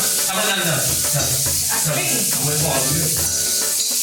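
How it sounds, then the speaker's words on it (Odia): Onion paste frying in a pan over high flame for mutton curry, a loud close sizzle and hiss running continuously with stirring, and some talk in the background. "ଏବେ ଆମେ ପକେଇବା ଯୋଉ ପେଷ୍ଟ କରିଥିଲି ପିଆଜ"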